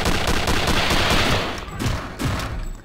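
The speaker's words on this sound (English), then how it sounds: "Oh god, he's just firing!" Rapid enemy gunfire in Return to Castle Wolfenstein, a dense burst of close, loud automatic shots for about a second and a half, then a few scattered single shots trailing off.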